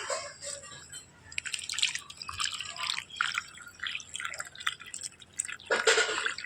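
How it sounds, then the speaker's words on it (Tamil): Water is sprinkled over a newly planted pennywort in a clay pot. Light dripping and splashing patters on and off, close and fairly soft, with no talking. "தேவையான அளவு தண்ணீர் தெளித்து கொள்ளலாம்"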